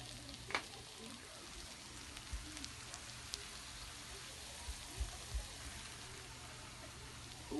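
Pork fat, ginger, onion and garlic sizzle and fry in a pan with a steady crackling hiss, broken by a few soft knocks from stirring, while a voice speaks faintly in the background.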